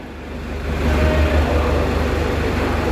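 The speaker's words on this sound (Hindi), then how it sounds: "ला भाई स्टार्ट कर ला।" Diesel engine of a Sonalika DI 750 tractor, a 55 HP model, turning over and settling into a loud, steady low throb that builds in the first second, heard up close with no talk.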